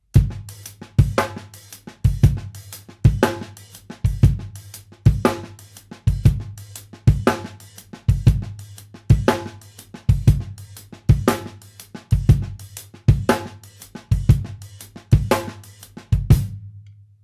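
A drum kit lays down a steady shuffle groove with open hi-hat notes on the ends of the triplets, the kick and snare hits repeating in an even, loud, close pattern for over fifteen seconds without any voices.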